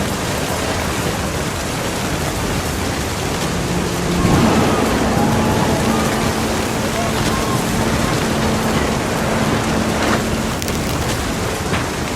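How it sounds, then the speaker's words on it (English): Steady rain and storm wash from the What Remains of Edith Finch video game, with a low rumble of thunder swelling in the middle, a faint hum and soft voices beneath the constant downpour. "The thunder sounded much too close and full of angry power"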